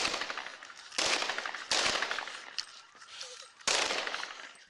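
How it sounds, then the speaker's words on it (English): Several sharp bursts of gunfire recorded on a police body camera, loud and reverberant, coming in clustered volleys with decaying echoes between them, heard close without talking. "What you hear is the last round of shots being fired"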